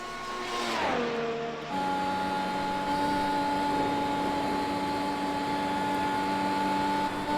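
Onboard engine of a race car lapping Bathurst in the racing game F1 Challenge: the revs sweep down through a gear change, then hold a loud, steady, high-pitched whine close up.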